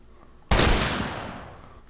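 A single loud gunshot in The Last of Us, a sharp sudden blast with a long decaying tail and no talking over it.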